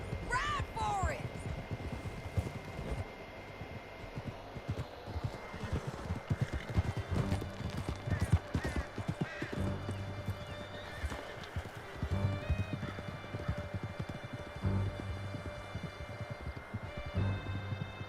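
Horse hooves gallop steadily in the video game Red Dead Redemption 2, with a neigh near the start, while voices speak over the ride.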